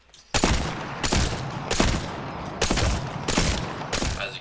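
Gunfire during aim practice in Apex Legends, a run of five loud, sharp shots spaced roughly evenly about two thirds of a second apart, each with a short ringing tail, heard alone without talk.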